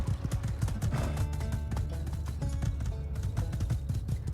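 Horse hooves gallop quickly in the video game My Time at Sandrock, a dense, fast rhythmic drumming that stays loud and close throughout.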